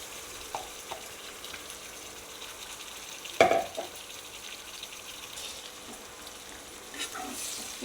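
Chicken frying with golden onions for dum biryani, a soft steady sizzle with stirring scrapes and one sharp clatter midway, fairly quiet and close.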